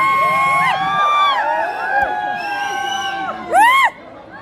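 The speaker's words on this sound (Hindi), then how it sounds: "चिल्ला भाई, काहे चिल्ला रहे हो यार" A crowd at a Bhojpuri film shoot at MLK PG College in Balrampur shouts and whoops loudly in overlapping voices, with a sharp, louder burst of yelling near the end.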